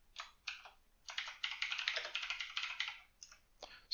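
Fast typing on a computer keyboard during a programming session: dense, rapid bursts of close, crisp key clicks with a few short pauses between runs, no voices.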